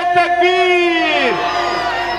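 A large crowd at a Jamia Fatima Girls College education-awareness conference answers a leader's call with a loud, sustained unison chant of the Nara-e-Takbir slogan, a full-throated roar filling the space.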